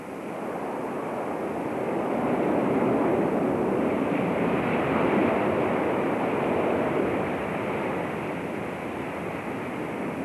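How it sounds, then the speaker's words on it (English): Recorded tape of ocean waves, a steady broad rushing wash of surf that swells slightly midway and holds at a constant loud level throughout, with no voices. "that tape, which sounds simply like ocean waves"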